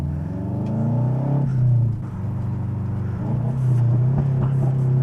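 A Subaru engine revs hard and loud, its harmonic drone rising and falling through two surges, with crackling exhaust pops breaking in as the revs drop.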